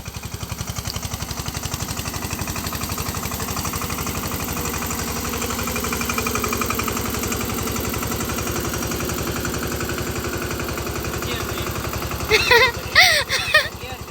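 A tractor engine runs steadily, heard as a close, rhythmic low chugging idle throughout, with voices talking briefly near the end.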